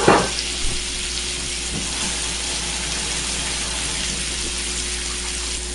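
Spice-rubbed filet mignon steaks are laid into a pan over medium heat. A soft thump is followed by a steady, hissing sear that holds evenly throughout.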